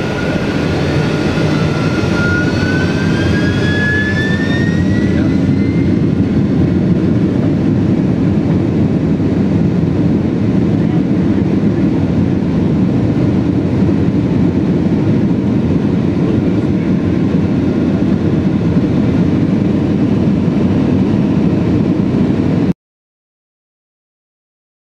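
Inside the business class cabin of a Boeing 767-400ER, the jet engines give a loud, continuous roar that holds steady throughout, with a faint rising whine early on and no talking.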